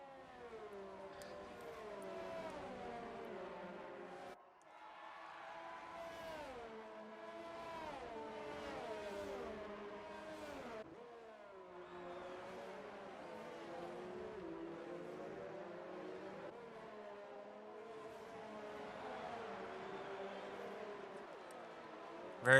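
Formula 1 race cars in F1 2019 at the Australian Grand Prix, fairly faint, their engines whining and rising and falling in pitch through gear changes, with a brief drop in the sound partway through.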